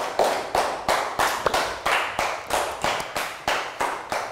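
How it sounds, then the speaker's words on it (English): Students in a primary school classroom clap for a classmate in a rhythmic, unison pattern, about a dozen evenly spaced bursts of hands, close and fairly loud with no talking. "Big round of applause for Ned"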